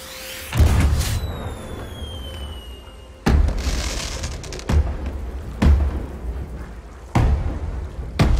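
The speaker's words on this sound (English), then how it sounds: "Now we will show the Shimmering Waves firework." Several loud Sea of Thieves firework bursts (Shimmering Waves) boom one after another, each followed by crackling and whistling trails, with no voices.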